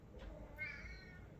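A pet cat gives a single soft, high meow indoors, faint and close, over a low background hiss.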